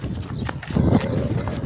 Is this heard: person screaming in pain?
no